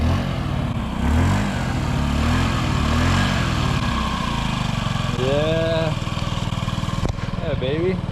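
A Honda Ruckus scooter engine runs with its cracked muffler sealed with JB Weld, giving a steady, close, continuous drone that holds an even pitch for the whole stretch.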